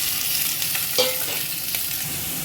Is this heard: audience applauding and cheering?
no